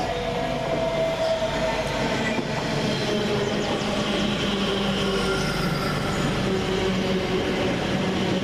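A Class 345 TfL Rail electric train rolls into Gidea Park station, its steady rumble, wheel noise and faint squeals filling the scene from start to finish without any talk.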